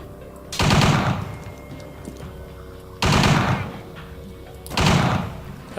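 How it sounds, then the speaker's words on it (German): Three-round bursts from a gun in the video game Übersoldier, three loud, separate bursts spaced a couple of seconds apart over a steady background hum. "die Knarre schießt gerade dreimal, seht das?"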